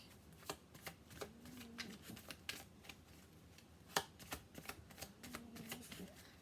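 Quiet, steady riffling and snapping of a tarot deck being shuffled close up, with repeated crisp card flicks in an uneven rhythm and a faint hum underneath.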